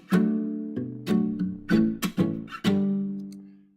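Palm-muted strums from the AGML 2 guitar VST land in a loose rhythm of about eight dull, chunky chord hits with short decays, the last one ringing longer, loud and with no voices.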